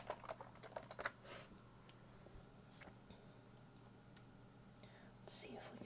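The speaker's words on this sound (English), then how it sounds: "I get some typing in this video too" Quiet keyboard typing at close range, with scattered light clicks and taps in irregular bursts over a soft background hiss, in a hushed ASMR setting with faint whispering.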